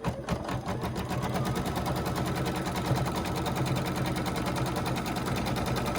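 A sewing machine runs steadily while stitching jelly roll fabric pieces for a table runner, giving a fast even mechanical chatter at moderate volume throughout, with no talk over it.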